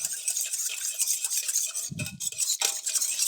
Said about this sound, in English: Then we're going to give it a good whisk.